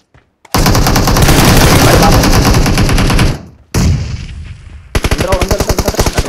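Rapid automatic gunfire in the video game PUBG rattles loudly in long bursts, briefly cuts out, then resumes with distinct rhythmic shots, harsh and close.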